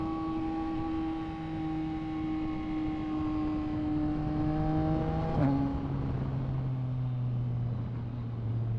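A big motorcycle's exhaust drones with a steady engine note that shifts pitch midway, with a sharp pop near the middle, moderately loud and alone without talk.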